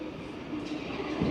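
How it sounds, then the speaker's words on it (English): A subway train rolls into a Toronto station, a steady rumbling roar of wheels and cars with a rising squeal near the end, close and continuous. "We'll just let this train roll in and we'll hop out of the station here."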